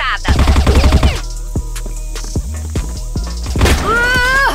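A burst of rapid gunfire crackles loudly in a competitive first-person shooter match, then scattered single shots ring out with game sound effects and faint voices in the background.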